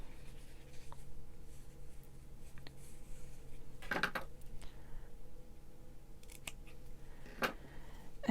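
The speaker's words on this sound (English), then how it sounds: "I'm gonna just do a little teeny tiny snip on both of them" Scissors make a few sharp snips into fabric while cutting a fitted face mask, two quick clusters of crisp close cuts separated by quiet handling and faint ticks.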